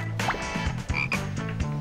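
Frogs croaking in a cartoon classroom scene, a loud continuous run of rhythmic, throaty croaks with a few higher squeaky tones over them.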